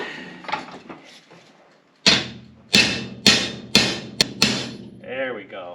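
Five sharp metallic hammer strikes from a body hammer on an engine part of a GMC 302 inline six ring out one after another at close range, following some quieter tapping and rustling, with a brief scraping sound at the end.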